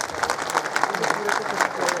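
An audience in a hall applauds to welcome the chief guest at a government disaster-risk workshop, a dense, even patter of many hands clapping throughout.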